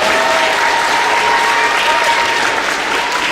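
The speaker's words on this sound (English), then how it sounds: "One big round of applause for Mr. Pease again, please." A school assembly audience claps loudly and continuously, a dense, close wash of many hands applauding with faint voices mixed in.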